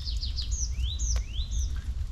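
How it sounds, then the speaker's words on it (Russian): Songbirds chirp and whistle in a forest outside a window on a rainy morning, several quick upward-sweeping calls close by over a low steady rumble. "летучие птицы устроили мне музыкальное сопровождение."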